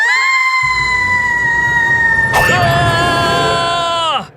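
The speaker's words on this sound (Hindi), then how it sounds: "किटी की चीख है" A cartoon cat named Kitty lets out a long, loud, high scream that holds steady, bends upward briefly partway through, then drops and cuts off abruptly, over a low rumbling backdrop.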